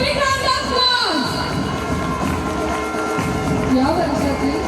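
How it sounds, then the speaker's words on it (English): School annual day audience applauding and cheering an award winner, with children's shouts in a dense, steady wash of crowd noise while an announcer's voice carries over it. "Please give him a big round of applause."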